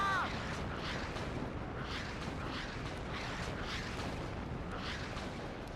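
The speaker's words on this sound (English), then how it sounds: "Now third salvo on the way." Howitzers, mortars and rocket launchers fire a salvo at buildings in WARNO, a dense rumbling barrage of repeated deep booms rolling continuously throughout with no clear gaps.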